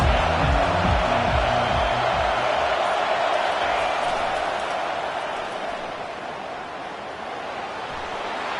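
A large stadium crowd roars continuously during an American football game, a dense, loud wash of cheering against the offense that eases slightly toward the end.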